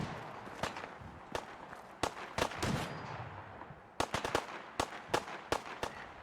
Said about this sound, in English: And I'm hearing gunshots.